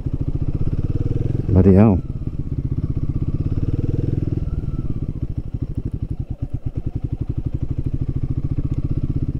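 A Royal Enfield Guerrilla 450 motorcycle on the road has its throttle snapped on and off, a sharp rev burst followed by a steady, loud thumping single-cylinder idle and putter, with a brief exclamation from the rider.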